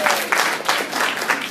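Audience clapping at a June 2018 member meeting prize drawing, a short burst of dense, fairly loud applause from a room of people.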